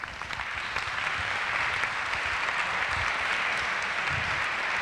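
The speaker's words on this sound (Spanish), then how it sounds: "De nuevo, un fuerte aplauso para él, por favor." Applause from an audience at a university award presentation, a sustained, even roar of clapping heard alone at moderate distance, holding steady for several seconds.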